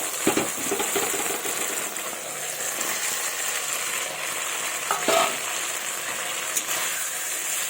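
Fried drumsticks and potato pieces are stirred into a frying pan, producing a continuous close sizzle with scraping and clattering stirring strokes, including louder bursts near the start and around the five-second mark.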